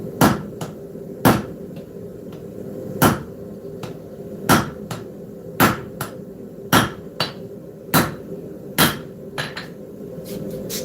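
Hammer blows forging a knife blade on an anvil, with the blade hanging off the edge and the handle end resting on the face: sharp, ringing strikes land about once a second in a steady rhythm, with lighter taps between them.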